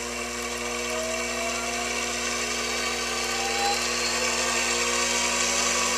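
Homemade bench grinder built from a treadmill motor rated 2.5 horsepower peak and 1.5 continuous, spinning at top speed with a steady high-pitched whine and constant hum, loud and close with no pauses.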